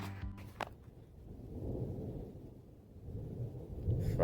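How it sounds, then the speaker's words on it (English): Low, distant thunder rolls in two broad swells during a storm, a muffled rumble with a couple of sharp knocks near the start and no talking. "Thunder."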